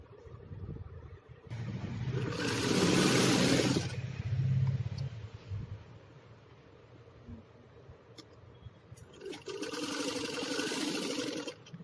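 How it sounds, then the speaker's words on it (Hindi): Sewing machine running in two bursts while double-stitching a blouse dart, with a low motor whir and rapid needle chatter, the second burst starting near the end after a quieter pause. "डबल स्टिचिंग हो गई है।"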